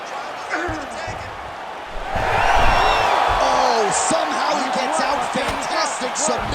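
Crowd cheers and roars in a simulated UFC bantamweight main event between Cory Sandhagen and Umar Nurmagomedov, a sustained arena swell that builds loudly midway, mixed with commentator talk.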